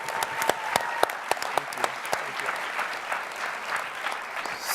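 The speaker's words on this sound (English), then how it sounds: "So can we clap your hands one more time for you guys?" Studio-style audience at a Georgetown leadership talk claps for the restaurant founders: a loud, dense burst of applause with sharp individual claps standing out, steady across the whole stretch and fading slightly at the end.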